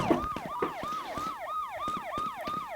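Police car sirens in a video game wail in a steady repeating rising-and-falling pattern, loud and continuous, with no talking over them.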